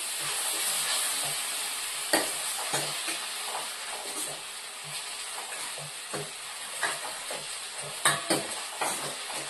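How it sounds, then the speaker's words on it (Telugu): A spoon stirs egg curry with spice paste in a hot pan, giving a steady sizzle under repeated scraping and clinking strokes against the metal, close and alone. "ఒక రెండు టీ స్పూన్లు వేసుకున్న తర్వాత మళ్ళీ ఒకసారి కలుపుకుందాం"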